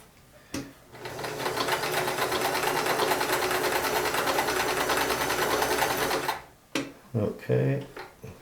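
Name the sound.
Sears Kenmore 158 series free arm sewing machine stitching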